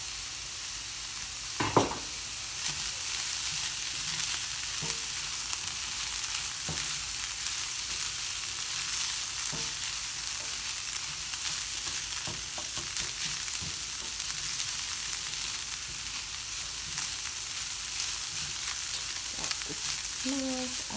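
Sage and garlic sizzle in a frying pan with a steady, even crackle throughout, broken by a few faint clinks of a utensil.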